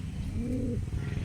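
Pigeons cooing in a backyard loft, a single soft low rolling coo swelling in the middle of the clip, close and alone against a dull background hum.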